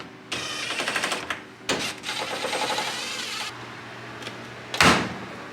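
An LG dryer door is shut after the lint trap is reinstalled, giving a sharp, loud thump near the end, preceded by rattling mechanical clatter and handling noises.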